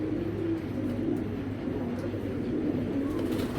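A pair of Afsan grizzle racing pigeons cooing in low, steady murmurs close by, with no speech over them.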